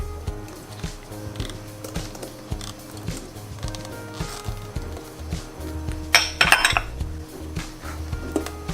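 A utensil stirs pandan cake batter made with coconut milk in a bowl, producing repeated scraping and clinking strokes at a steady rhythm, with a brief, sharper clatter near the end.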